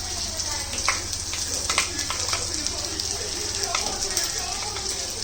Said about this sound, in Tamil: எண்ணெய் காஞ்சிடுச்சு, கடுகு போட்டுக்கலாம். இறாவுக்கு வெங்காயம் போட்டுக்கலாம்.